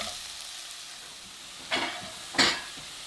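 Shallots frying in a little oil in a pan while being stirred, with a quiet steady sizzle broken by two sharper bursts of hiss and scraping as the pan is worked, near and fairly soft.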